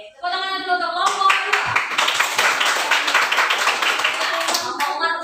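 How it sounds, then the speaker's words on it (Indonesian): Classroom of students clapping for a student group, a dense burst of hand claps starting abruptly and continuing steadily, close and lively, with a voice briefly at the start. "Tepuk tangan dulu untuk kelompok."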